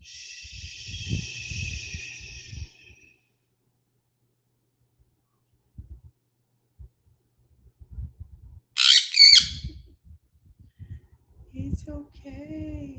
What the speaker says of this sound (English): Oh, that pretty bird right there.